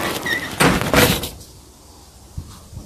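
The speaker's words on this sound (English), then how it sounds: "so let me close the door" A door being closed indoors, with a couple of loud thuds and a sliding rattle, then quiet room tone and a faint knock at the end.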